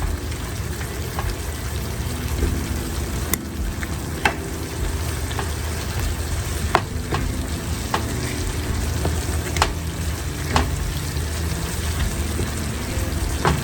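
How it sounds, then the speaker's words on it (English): Onions, with ground beef for empanada filling, frying steadily in a pan, a constant close sizzle and crackle with scattered small pops and stirring clicks, no talking. "You're gonna cook this down until those onions are translucent."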